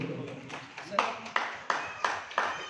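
An audience at a ceremony honoring families of fallen soldiers at the Maulana Azad Research Centre in Aurangabad claps in a steady rhythmic beat, crisp regular claps running under a voice talking.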